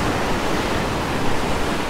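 Storm-driven sea waves surge and crash inside a rocky seaside grotto at Fiolent, a dense, continuous roar of churning water and spray filling the space at close range with no voices.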